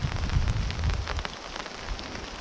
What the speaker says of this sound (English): it is now raining and I've had to resort to putting the brolly up